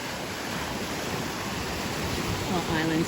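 Ocean waves wash against the rocky Iron Shore at Roatan's West Bay, a steady broadband roar of surf with wind noise throughout, loud and continuous.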